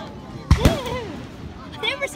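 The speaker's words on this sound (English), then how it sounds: "Dude, I've never seen fireworks so tight." Backyard fireworks at an early Fourth of July celebration, with two sharp close bangs followed by a rising whistle and crackle, while people talk excitedly nearby.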